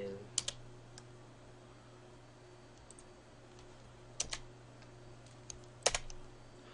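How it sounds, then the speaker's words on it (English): Sparse computer mouse and keyboard clicks come in small bursts over a low steady hum, quiet and close while someone edits an image mask on a computer. "we're going to control click on the levels mask"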